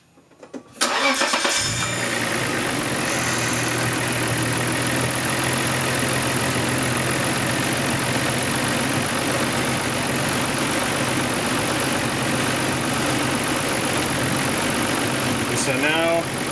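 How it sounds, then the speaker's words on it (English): A Nissan R32 Skyline GT-R's RB26 engine cranks briefly, catches within the first second and then settles into a steady, loud idle that continues unchanged to the end. "So now the light is active and I'm going to start the car."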